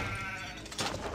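A sheep bleats with a wavering, drawn-out cry in the Skylanders Ring of Heroes video game, heard fairly loud over dense game background sound, with no talking.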